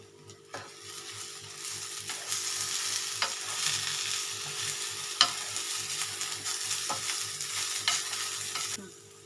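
Sabudana khichuri with chopped coriander being stirred in a pan, a continuous hiss of frying under repeated scrapes and knocks of the spoon, close up, with a low steady hum underneath.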